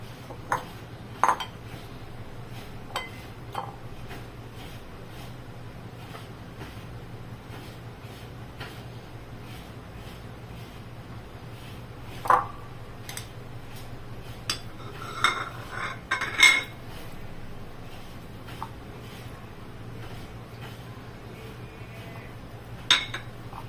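Bhetki fish being mixed with poppy seed paste in a dish, quiet with scattered clinks and knocks of utensil against the dish over a low steady hum.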